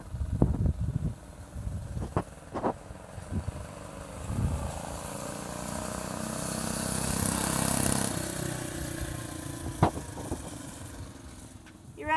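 Vintage minibike engine on a muffler-run race, starting with sputtering pops and revs nearby, then a sustained buzzing run that swells and fades into the distance, followed by a few more bursts of revving.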